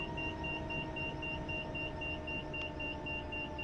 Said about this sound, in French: le bip d'avertissement.